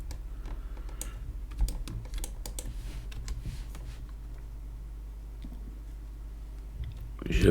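Computer keyboard keys pressed in short irregular bursts of clicks while someone works in image-editing software, steady and close, with a louder cluster of taps at the very end.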